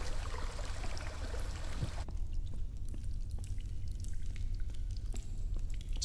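Flowing water in the video game Chants of Sennaar, a steady pouring stream that softens into a lighter trickle partway through, with no speech.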